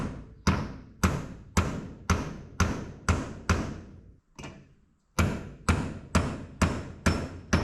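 Repeated hammer blows on a metal seat bracket clamped in a vise, bent to retrofit Porsche 997 seats into a 986 Boxster: about a dozen loud, sharp, evenly spaced strikes with a short pause midway.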